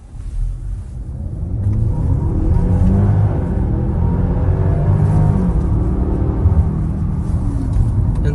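A 2021 Range Rover Sport launches hard from a standstill on a German road, its engine rising into a loud, deep, sustained rumble as it accelerates.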